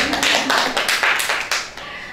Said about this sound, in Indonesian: aplaus buat Bu Nani hari ini